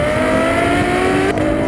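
A Ferrari F12 Berlinetta's engine roars loudly on the road, a sustained high-pitched wail that climbs steadily in pitch under hard acceleration, close and continuous with no talking.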